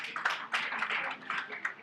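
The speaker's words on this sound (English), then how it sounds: "Please give it a round of applause" Applause from an audience at a Rotary gathering, brief and uneven, with scattered claps rising and falling at moderate loudness and a few voices mixed in.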